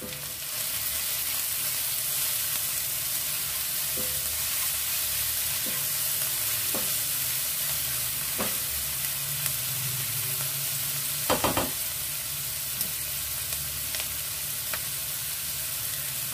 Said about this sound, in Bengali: পেঁয়াজ খুব বেশি ভাজবার দরকার নেই, নরম হয়ে গেলেই হবে।